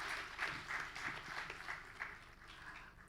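Audience applause at a sports and drugs panel conclave, steady, moderately distant clapping from a crowd that holds an even level throughout.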